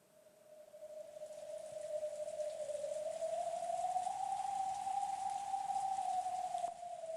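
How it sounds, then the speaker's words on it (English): Eerie wind and rain ambience from the Umineko visual novel, a steady wash of rainfall noise with a sustained moaning wind tone that slowly rises and holds, continuous and moderately loud with no talk. "The eerie sound of the wind and rain."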